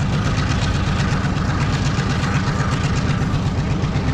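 A train approaches Nine Arch Bridge in Ella, Sri Lanka, its heavy diesel engine throbbing in a steady low rumble with rhythmic pulsing, fairly close and alone without talk.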